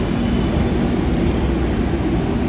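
The Yesvantpur-Shivamogga Intercity Express rolls along the track with a continuous, loud, low rumble and steady wheel noise, heard from on board.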